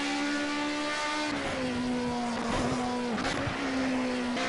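A race car in the video game Project CARS on base setup drones along at a steady high pitch, its engine note dipping and climbing through shifts with faint tyre noise underneath, fairly quiet and continuous.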